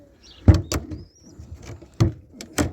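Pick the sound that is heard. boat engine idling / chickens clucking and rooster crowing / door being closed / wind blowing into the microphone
door being closed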